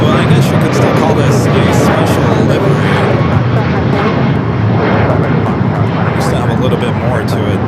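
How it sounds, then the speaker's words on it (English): An Austrian Airlines airliner in a special livery takes off from runway 25 at LAX, a loud, steady, broadband jet roar that fills the whole stretch, with faint voices underneath. "runway 25 at a Foxtrot, cleared for takeoff"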